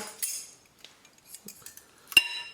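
A fork clinks and scrapes while coating chicken drumsticks in a tandoori marinade in a bowl, with scattered light taps and one sharper clink near the end, close and fairly quiet.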